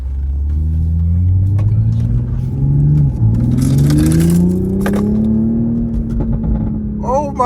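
A Toyota Supra sports car engine revs hard and climbs in pitch as it accelerates at full throttle. The roar is loud and close, with a voice briefly heard underneath.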